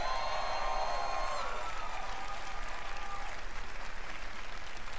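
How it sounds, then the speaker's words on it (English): Sustained applause from a large audience at the Bethesda E3 2018 press conference, a dense, even clatter of many hands held steady throughout, with faint tonal music or announcer sounds drifting above it. "Can I get another round of applause, please?"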